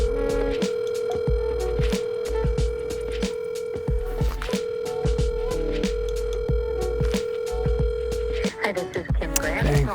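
A phone call being placed, with steady ringback tones and a sustained line tone repeating across the clip, fairly loud and close, over background hum.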